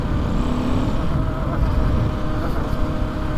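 A car rolls slowly over bumps on a heavily snowed road, giving a close, steady low rumble of engine and chassis with dull thumps and rattles running throughout.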